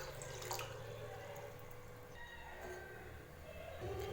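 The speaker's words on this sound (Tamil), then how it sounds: "காலிஃப்ளவர் வேக வைக்கிறதுக்கு நம்ம இதில் தண்ணி சேர்த்துக்கலாம்." Water poured into a cooking pot before boiling cauliflower in a home kitchen, a soft steady trickling stream heard close and fairly quiet.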